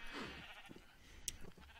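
Quiet Minecraft sheep bleats, a short blocky in-game animal call, come in faintly over low game ambience with no talk.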